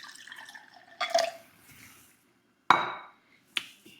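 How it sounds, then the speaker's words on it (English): Chamomile tea is poured into a glass, giving a trickling liquid sound broken by a few sharp glassy clinks and taps, close and fairly quiet. "then we're going to pour in some of our chamomile tea"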